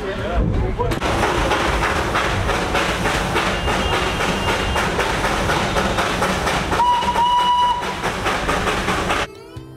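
Darjeeling toy train rolling along rails on a rainy day, a loud continuous rumble and rattle of wheels and carriages close by, with a brief whistle-like tone near the end before the noise drops away.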